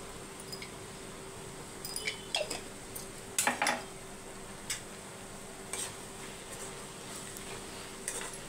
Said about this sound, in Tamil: குடமிளகாவை அப்படியே மிக்ஸ் பண்ணி விட்டுக்கோங்க